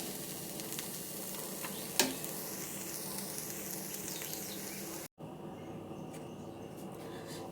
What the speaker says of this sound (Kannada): ಈಗ ಕೊಬ್ಬರಿ ಹಾಕಿದ್ಮೇಲೆ ಒಂದೆರಡು ಸೆಕೆಂಡ್ ತಿರ್ಕೊಂಡ್ರೆ ಆಯಿತು